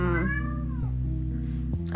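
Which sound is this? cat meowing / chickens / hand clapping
cat meowing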